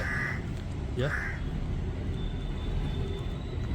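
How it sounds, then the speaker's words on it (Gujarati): Two short crow caws ring out close by over steady background traffic noise and faint voices. "કાગડા ભાઈ આવ્યા છે જોઈ લો કા કા કરે છે"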